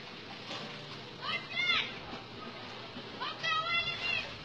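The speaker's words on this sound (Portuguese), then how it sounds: "Pode mexer até dissolver." A homemade liquid soap mixture of caustic soda and water being stirred until it dissolves: soft sloshing and splashing in a container, in a few short bursts, with a voice talking in the background.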